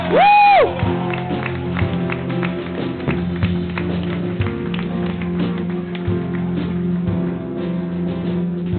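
A church congregation applauds during a consecration celebration service, a rhythmic, dense clapping that follows a short burst of sound and continues steadily for several seconds over sustained low musical tones.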